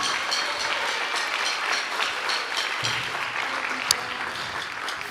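An audience at a junior high school spring band concert applauds ninth grade band students, a sustained dense wash of clapping that fills the room, steady and fairly loud from start to finish with a single sharp knock near the end.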